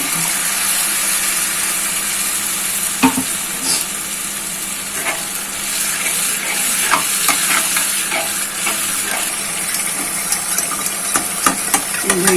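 Masala spices fry in oil while being stirred for a chhana kofta curry, a steady close sizzle with scattered scraping clicks of the spoon against the pan throughout.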